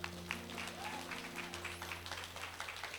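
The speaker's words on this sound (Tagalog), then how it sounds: "bigyan po muna natin sila ng isang malakas na palakpak ulit" Wedding guests applauding at a reception, a moderate patter of clapping over a steady electrical hum, fairly soft and somewhat distant, with no clear speech.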